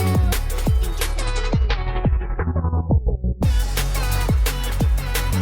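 DJ-style transition effect from an automated pitch shifter on a punchy beat: kicks and synths sweep steadily downward in pitch and thin out, then the full loud groove snaps back in with regular thumping hits.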